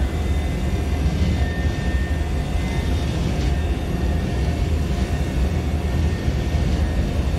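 Embraer E190 jet engines spooling at takeoff thrust in a flight simulator game, a loud, steady broadband roar that holds constant throughout without any voices.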